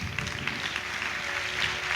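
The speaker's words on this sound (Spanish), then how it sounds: "Un fuerte aplauso ahora sí para Iru Landucci" Applause from a live audience at a spiritual talk welcoming a speaker to the stage, a steady even patter of many hands clapping throughout, fairly distant and moderate in level.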